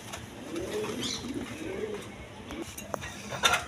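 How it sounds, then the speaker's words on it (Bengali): Soft, low rolling coos from a pair of high-flying Giribaz pigeons come in several repeated phrases, fairly close and moderately quiet, with a little background noise and a brief sharper sound near the end. "দশমিন এখানে এক পেয়ার হাই ফ্লাইং গিরিবাজ কবুতর আছে"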